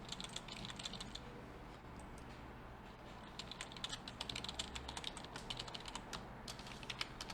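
Rapid, uneven clicking of keys on a computer keyboard, soft and close, continuing steadily for several seconds without talk.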